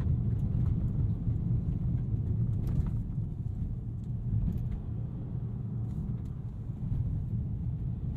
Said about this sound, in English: The EcoBoost motor once again providing more than sufficient grunt